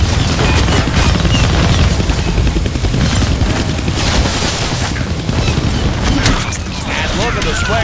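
A helicopter beats loudly and steadily in a Deadpool video game, its rotor thumping continuously under bursts of gunfire and explosions, with a voice speaking over the din.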